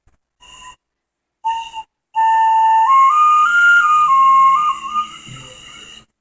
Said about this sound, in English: It's a Cherokee whistle, 4-holed whistle.